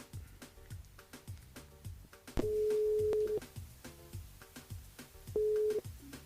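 Phone ringing tone on an outgoing callback to a radio listener, two long steady rings with a pause between, sounding through a busy live broadcast with music and clatter underneath.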